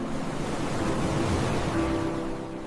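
Ocean surf gives a steady, broadband wash of breaking waves, close and moderately loud, with no separate splashes and no voices.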